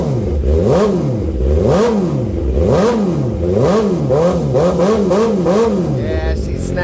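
A 2009 Suzuki GSXR 600 supersport motorcycle fitted with a Two Brothers exhaust revs repeatedly up and down, loud and close, in rising quick blips that come faster toward the end.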